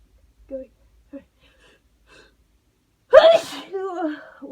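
A few small, tense breaths and catches come first, then a held-back sneeze finally bursts out close to the microphone, followed by a voiced sigh or gasp.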